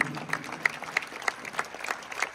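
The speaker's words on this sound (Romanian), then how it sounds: "dați încă o dată aplauze" A concert audience applauds a pianist and an orchestra, falling into steady rhythmic clapping with sharp, evenly spaced beats over a wash of scattered claps.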